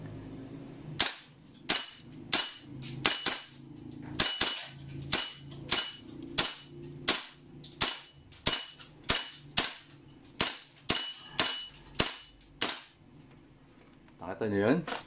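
Rapid series of about twenty sharp cracking shots from a BCM MCMR 14.5 airsoft gas blowback rifle fired indoors at a target in an office, evenly spaced pops with metallic pings, loud and close, ending in a brief rustle.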